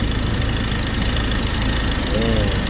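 A Ford Ranger pickup's diesel engine idles steadily throughout after a no-start and stalling fault, a continuous low rumble with a brief higher tonal whine near the end.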